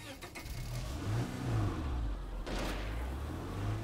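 A car engine in the zombie survival game State of Decay 2 revs with a low, rumbling drone that swells and eases over a few seconds, heard at moderate volume from the game's audio.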